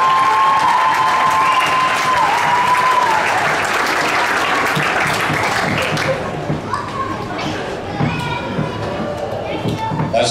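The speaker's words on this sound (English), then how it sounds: "Let's give them a real big round of applause" Big round of applause from the crowd at a high school basketball tournament championship, loud sustained clapping with cheering and children's voices that fades into scattered claps and chatter.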